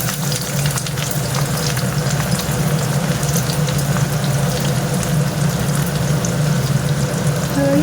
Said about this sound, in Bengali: পেঁয়াজগুলোকে লাল করে একটু ভেজে নিই